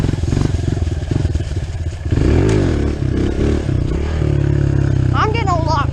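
Dirt motorcycle on a woodland trail, engine droning and revving loudly with clatter and scraping from the ride, the rider having slipped with the clutch held in; a brief voice cuts in near the end.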